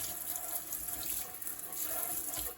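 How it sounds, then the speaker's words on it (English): Steady rushing water rinsing a dirty RV air conditioner filter, a continuous close hiss and splash throughout with no talk. "So we're going to rinse this down well and set it aside to dry"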